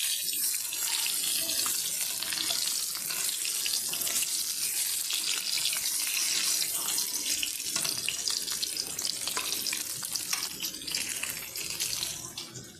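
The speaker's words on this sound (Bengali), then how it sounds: "এবারে আমি ডিমটা ভাজবো। তেল দিয়েছি, 1 চামচ মতন তেল দিয়েছি।" Eggs frying in about a spoonful of hot oil for a village-style egg curry, giving a steady, loud, broadband sizzle and crackle that runs unbroken throughout with no talking.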